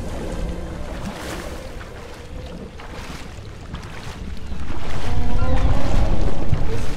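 Rushing water surges in the video game RIME, a steady watery wash that swells louder and fuller near the end, with no voices.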